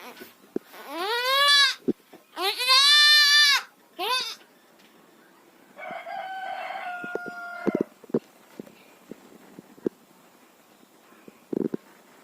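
A rooster crows twice in a farmyard, loud and close, followed by a goat bleating and scattered clucks and scuffling, with faint voices in the background.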